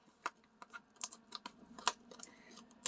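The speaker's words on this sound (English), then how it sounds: "So they put tape at the top. So I got to pull the tape off." Packing tape is peeled off a Diamond Dotz kit package in quiet, irregular crackly ticks and short ripping bursts, faint and close up, with no voices.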